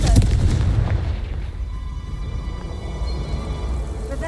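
A Confringo blasting spell explodes in the Hogwarts Legacy video game: a loud, sharp burst at the start that fades into a long rumbling tail under dense game noise.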